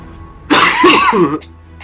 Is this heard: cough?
yes